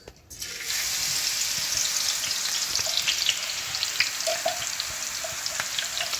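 Ginger, chili and garlic paste frying in hot oil, a dense, steady sizzle starting abruptly as the paste hits the pan, close and loud, with a few faint clinks over the hiss.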